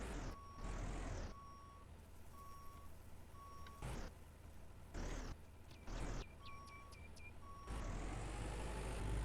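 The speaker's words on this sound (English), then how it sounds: "I just pulled my tractor right here" A tractor maneuvers in the Farmer's Dynasty farming video game: a steady low engine rumble runs throughout, with an intermittent reversing beeper and several sharp hissing bursts, close and fairly loud, with no voices.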